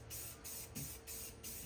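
Spray paint hisses in short repeated bursts over a large oversized craft mug, about four quick blasts with brief pauses between, close and fairly steady.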